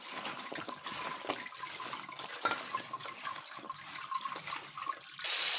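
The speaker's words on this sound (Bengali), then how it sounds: "আমি এই কেটে রাখা পটলগুলোকে এইভাবে ধুয়ে নিচ্ছি।" Cut pointed gourd (potol) being washed in water in a kitchen, soft sloshing and splashing with small drips, then a louder gush of running water at the end, no voices.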